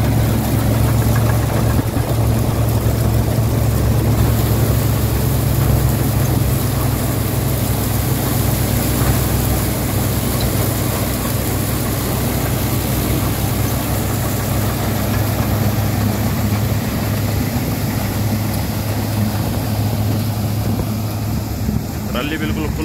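A 63 hp John Deere tractor runs steadily with a full trolley hitched behind and a 7.5-foot cutter on a dipper, its loud engine drone constant and close, with someone talking over it.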